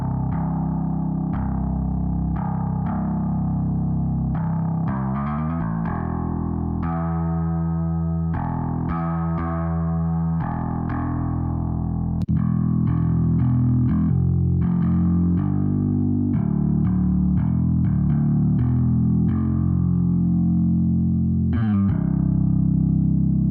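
A bass line from the EZbass virtual bass runs steadily with an amplitude effect switched on partway through, adding a thicker processed tone and a deeper low end in the later half.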